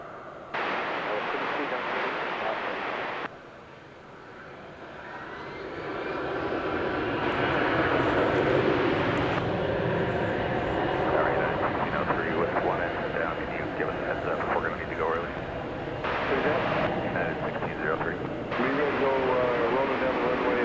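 An airliner at DFW Airport, a broad engine roar building and holding steady at a distance, with radio chatter and talk running over it throughout.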